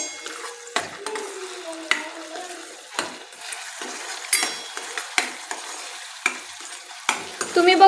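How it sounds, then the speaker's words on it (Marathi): Spiced masala for stuffed brinjal sautéing in oil until the fat separates: a low sizzle under repeated sharp spatula scrapes and clinks against the pan, close and irregular, with no talking. "याला छान असं तेल सुटेपर्यंत आपल्याला परतून घ्यायचं आहे"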